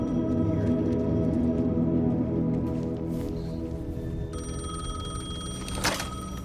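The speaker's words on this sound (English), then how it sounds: "The payphone was ringing." A payphone rings in the video game Alan Wake 2, an old-style bell trilling in repeated bursts over a low, droning ambient score, with one sharper ring standing out near the end.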